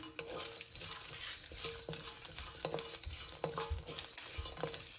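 Cashews, dried chili and curry leaves roasting in a pan, with a soft steady sizzle under repeated scraping and stirring clinks of a utensil against the metal.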